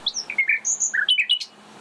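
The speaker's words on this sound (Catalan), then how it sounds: "És el rossinyol, un insectívor que ha arribat del sud." A common nightingale sings nearby in spring countryside, a rapid run of clear high whistled and chirping notes in quick succession, loud and alone against a quiet background.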